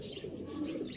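A fancy pigeon coos softly nearby, a short low burbling call, at a pigeon seller's setup in Peshawar.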